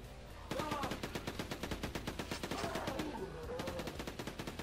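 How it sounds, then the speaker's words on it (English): Rapid, evenly spaced machine gun bursts from the PS1 version of Quake 2 hammer away at a fast steady rhythm, close and loud, with a voice talking faintly underneath. "Machine gun seems to be the answer to everything."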